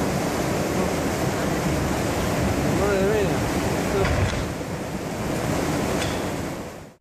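Large storm waves, around two metres high, crash onto a seafront coast, a loud continuous roar of surf and spray with wind noise buffeting the microphone throughout.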